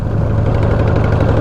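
A Harley-Davidson Dyna motorcycle engine runs while riding, a loud, close, low throbbing rumble that holds steady through the brief moment.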